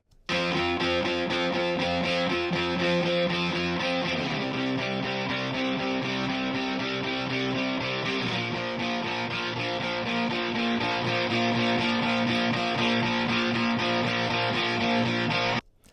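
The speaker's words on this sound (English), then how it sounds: "It really just kind of brings out some nice harmonic distortion and kind of pleasing, especially on an electric guitar." Sustained, heavily distorted electric guitar chords ring out continuously through a bx_console E plugin with its THD control raised, shifting between a few chord changes with a thick, harmonically rich tone.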